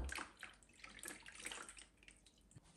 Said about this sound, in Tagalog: naglipat na ako ng tubig na puno itong ating lalagyan